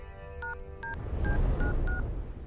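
Telephone keypad being dialed during a call to a forensics team in a police station, a short run of five evenly spaced electronic DTMF beeps, clear and close over a low background hum.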